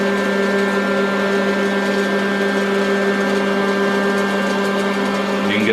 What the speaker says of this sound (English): You can get some idea of the level of noise this makes. It's noisy, but it's not like a blender